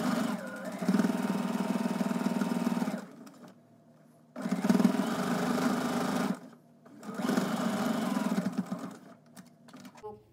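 A sewing machine top stitches just along a fabric edge in three separate close bursts of steady rapid whirring, each a couple of seconds long with short quiet pauses between, and no talk.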